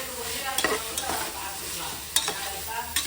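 Onions sautéing in oil in a pan, a close crackling sizzle with repeated scrapes and stirring knocks scattered through it, and no talking.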